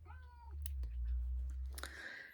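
A pet cat meows indoors, a short rising call followed by a second higher meow near the end, over a steady low household hum with faint clicks.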